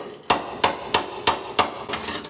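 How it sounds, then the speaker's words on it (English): A hammer strikes the rusty inner and outer rear sheet-metal panel of a Porsche 914 during restoration, five or six evenly spaced, loud metallic clanks close by, with a faint ring after each blow. "Start peeling this back a little bit with the hammer"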